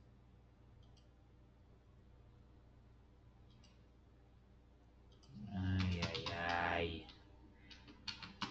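A computer keyboard gives off faint, scattered key clicks in sparse bursts against a quiet room. A short vocal exclamation cuts in partway through.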